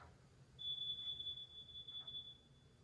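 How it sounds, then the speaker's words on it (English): A carbon monoxide alarm in a garage where a 1981 Oldsmobile Delta 88 is being revived gives one sustained high-pitched electronic beep, faint and distant, over quiet room noise. "there's the carbon monoxide frickin' alarm."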